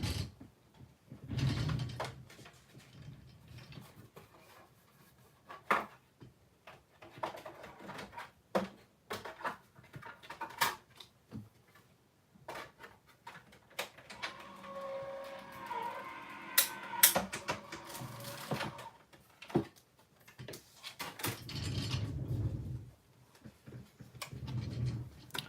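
A tabletop die-cutting machine cranks a cutting die through with irregular clicks, ticks and mechanical grinding, quiet and close, with a louder rolling passage in the middle.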